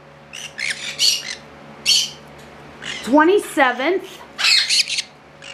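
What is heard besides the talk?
green cheek conure chicks squawking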